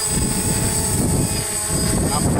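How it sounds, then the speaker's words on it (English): Quadcopter drone propellers whir at a steady, loud pitch with a strong tonal whine, running up as the throttle is raised outdoors, with a voice talking over the buzz. "You arm the props, you run up the throttle."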